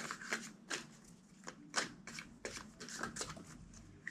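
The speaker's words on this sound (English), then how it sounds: "2 more shuffles." Tarot cards being riffled and shuffled in repeated crisp bursts, close up and fairly quiet, with short pauses between shuffles.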